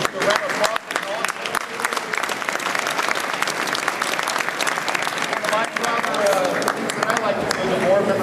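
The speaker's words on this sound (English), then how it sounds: "I want to give a round of applause to" An audience at a ravioli dinner breaks into applause, dense clapping from many hands, loud and close, with voices and cheers mixed in throughout.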